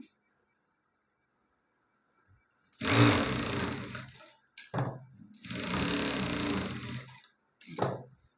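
Electric sewing machine stitches a blouse shoulder seam in two close bursts of rapid whirring, each over a second long, plus two brief short runs, with quiet pauses in between.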